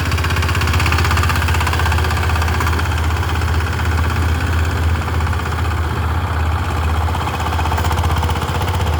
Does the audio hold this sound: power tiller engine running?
yes